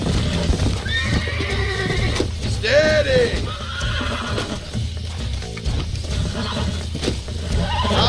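A horse in the video game Red Dead Redemption whinnies loudly and bucks, hooves clattering under a continuous noisy bed, while someone speaks briefly over it.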